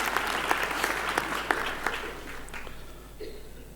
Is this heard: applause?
yes